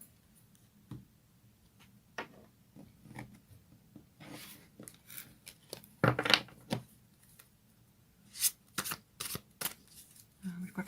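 Tarot cards being shuffled by hand make soft riffling and flicking bursts, close and quiet, with a louder riffle partway through and scattered card snaps toward the end. A voice speaks faintly now and then.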